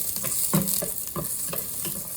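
Chicken wings and ribs in soy sauce sizzle hard in a pot, with a continuous frying hiss and a regular series of utensil scrapes from stirring, heard up close and without speech.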